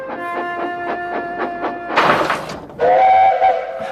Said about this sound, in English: That's not Thomas's whistle.